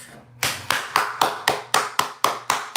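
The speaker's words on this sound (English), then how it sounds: "Like I'm clapping for it." Ten sharp, evenly spaced hand claps from one person, close and loud, coming at a steady pace of roughly three per second with no voices over them.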